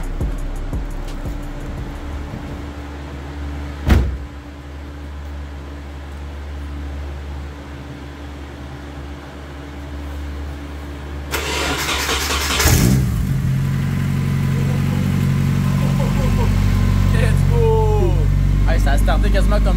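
With the fuel pump switched on, a car engine cranks briefly, catches and starts. It settles into a steady, loud idle that continues to the end.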